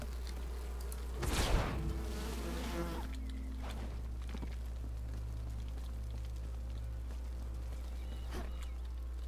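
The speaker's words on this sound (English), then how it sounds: "The bees keep coming after you." Insects buzzing in the survival game Enshrouded, with a loud swarm swelling briefly near the start over a constant low hum, then fading to faint, sparse buzzes.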